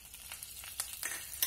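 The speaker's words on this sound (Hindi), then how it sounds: "अब हम इसमें थोड़ा सा कड़ी पत्ता डालेंगे दोस्तों" Curry leaves crackle in hot oil in a pan while cooking a bottle gourd and chana dal dish, giving a steady close sizzle with a few sharper spits and pops and no talk.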